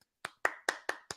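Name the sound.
golf clap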